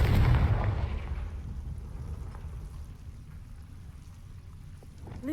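A Confringo spell effect goes off in a game's Map Chamber, opening with a loud, deep explosive blast that rolls off into a long, low rumbling decay, with a faint sharp crackle near the end.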